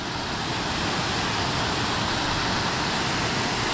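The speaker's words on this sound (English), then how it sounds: "check out waterfall" Steady, full roar of a waterfall in a shady Tasmanian rainforest near a trout stream, a dense continuous rushing wash of falling water that stays even and close from start to finish, with no voices over it.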